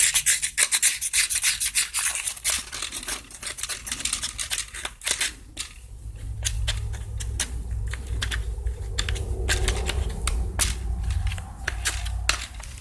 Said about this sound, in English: Start by scraping all the grime out of them.